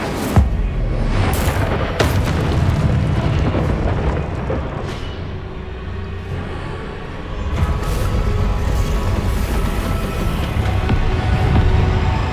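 Confringo spell blasts in Hogwarts Legacy, several sharp booming impacts at irregular intervals over a continuous loud rumbling of combat effects, with no talking.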